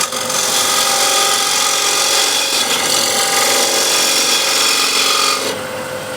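A small skew chisel pares wood while shaping a picture frame, giving a steady, close scraping and shaving rasp that holds for several seconds before easing off abruptly near the end.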